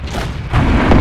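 A loud, booming tank cannon shot in World of Tanks, with an MT-25 light tank in play, hitting hard and rolling into a heavy, sustained low rumble that fills the moment.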